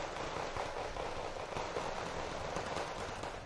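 Fallschirmjäger infantry in the wargame Wargame: Red Dragon firing Hermann G11 rifles and MG3 machine guns, a dense, steady crackle of distant small-arms fire with no clear separate shots, steady throughout.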